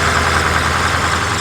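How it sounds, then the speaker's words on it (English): A tractor engine idles steadily at close range with a low, even rumble and a slight knocking vibration while the machine backs up; no voices. "We want to try to back the tractor up a little bit"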